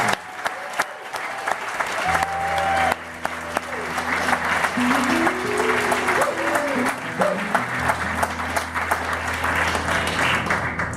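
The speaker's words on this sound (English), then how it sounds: "Would you please give your clap to all these people?" An audience at an evening singing performance breaks into applause, a broad wash of clapping that swells and holds across the whole stretch, with sustained tones and some background voices mixed in.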